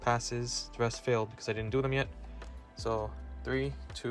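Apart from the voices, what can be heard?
No everyday noise stands out behind the speech.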